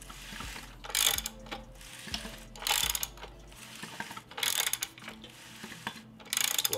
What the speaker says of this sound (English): So I'm just gonna spin the motor to top dead center again.